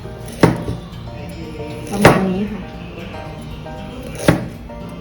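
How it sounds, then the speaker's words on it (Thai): Three sharp knife chops slice ginger into rounds on a cutting board, spaced a couple of seconds apart, with someone speaking briefly in between. "หั่นขิงเป็นแว่นนะคะ"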